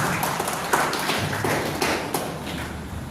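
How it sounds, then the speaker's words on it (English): Conference audience in Bihar applauding members on the dais, a dense, continuous wash of many hands clapping at steady volume with a few louder claps standing out. "Can we have a big round of applause for all the members on the dais"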